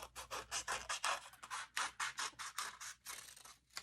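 Scissors cut through colored paper for a collage, making a quick, even series of about a dozen crisp snips, close and soft, with no talking.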